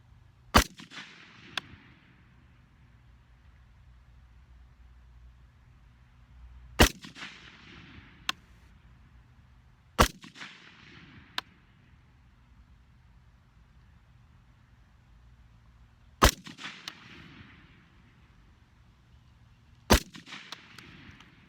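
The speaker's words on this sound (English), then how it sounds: "So let's take 5 shots." Five loud, sharp gunshots from a Colt 6920 Mil-Spec AR-15 rifle fitted with a red dot, fired slowly at evenly spaced intervals outdoors, each crack followed by a short echoing decay, with quiet between shots.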